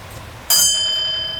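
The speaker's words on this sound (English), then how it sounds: "So on the same bell, all you do is tap once." A railway signal box block bell gets a single sharp tap, its bright metallic ring sounding once and then slowly decaying over a quiet room background.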